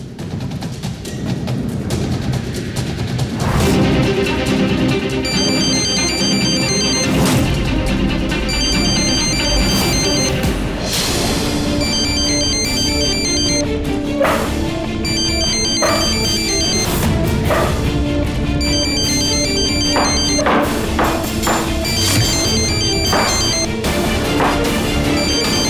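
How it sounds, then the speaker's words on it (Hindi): A phone rings repeatedly as a call is placed, a bright electronic ringtone in repeating patterns running loud and continuous over a dramatic music bed, with no speech. "मैं फोन ट्राई करता हूं उसका।"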